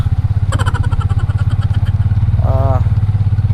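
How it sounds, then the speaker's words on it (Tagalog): A motorcycle engine chugs on a muddy road in Leyte with a rapid, pulsing thump, loud and close, and someone speaks briefly over it. "Pila pa to ka segundo murag naging utong-utong na akong makina."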